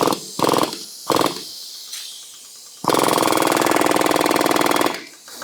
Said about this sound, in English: We drive the pin to the bottom.